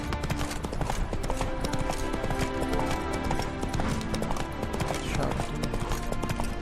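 Horse hooves clip-clop steadily in The Witcher 3: Wild Hunt on PC, a continuous rhythmic trot over game music and ambience, with a player's voice occasionally heard.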